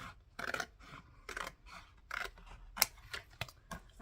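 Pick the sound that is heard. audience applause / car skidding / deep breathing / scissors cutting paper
scissors cutting paper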